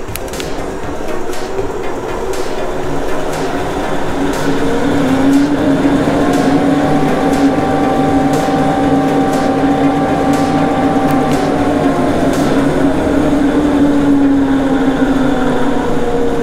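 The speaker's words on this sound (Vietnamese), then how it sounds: "để cho mọi người thấy được là máy hút bụi hoạt động" A woodworking shop dust collector runs continuously, a loud steady roar with a droning whine that swells slightly after a few seconds, with no talking.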